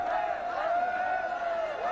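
Crowd noise at a UAE versus Nepal cricket final, a steady dense roar of shouting and cheering with raised voices rising and falling throughout, loud and continuous.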